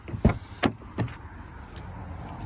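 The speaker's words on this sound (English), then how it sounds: "Believe it or not, the power windows are all working." Power windows operate on a 2000 Jeep Cherokee: three short thumps and motor pulses close by, then a faint steady whir, quiet overall with no talking.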